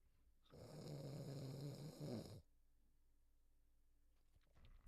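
A man imitates snoring with his voice: one long, rasping snore, drawn-out and fairly close, standing alone in a quiet room.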